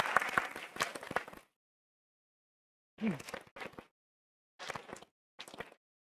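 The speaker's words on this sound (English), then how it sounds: "give them one more round of applause" Audience at a school district board meeting applauds students in short bursts of clapping separated by silent gaps, fairly faint and close.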